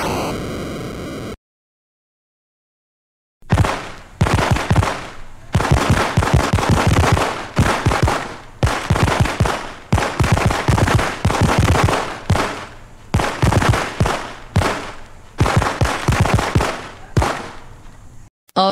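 Rapid bursts of fireworks crackle and bang in dense, irregular volleys after a brief tone and pause, loud and close, continuing steadily without voices.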